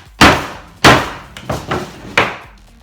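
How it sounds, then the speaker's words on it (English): Five sharp hammer blows strike a homemade Kevlar sill guard panel at an uneven pace, each a loud, close crack with a brief ringing decay. "Get a hammer and see."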